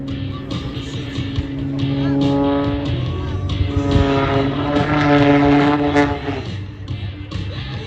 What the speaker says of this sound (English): have you seen a Hartzell propeller double down hammerhead?